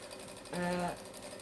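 A sewing machine stitches a variegated seam on a strip tote bag made from jelly rolls, a brief, close mechanical whir of under half a second with a steady tone, set against quiet room noise.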